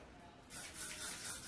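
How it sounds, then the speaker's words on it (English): Hair spray hisses from a can onto freshly cut hair in a short, soft, continuous burst close by, after a brief quiet moment. "and then I'll spray"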